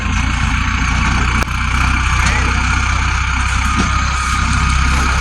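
A loaded tractor pulling a trolley along a road out of a field, its engine running steadily and loud throughout with a constant low drone, a brief knock near the start.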